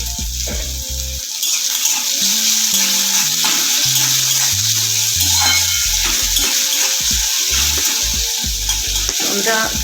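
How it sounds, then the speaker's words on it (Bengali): Tomatoes are stirred and sautéed in a pan for a Bengali lote fish curry, giving a continuous close sizzle broken by scraping stirs, with low tonal music running underneath. "টমেটোটা আমি ভালো করে নেড়ে চেড়ে কষিয়ে নিচ্ছি"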